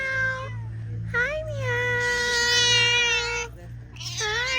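A cat meows repeatedly up close, with several drawn-out, wavering calls, one long sustained cry in the middle, and a low hum running steadily underneath.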